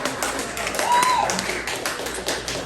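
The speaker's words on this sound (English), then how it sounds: "Thank you for that applause." A comedy club audience applauds a stand-up comic, a continuous wash of clapping at moderate loudness with a few voices mixed in.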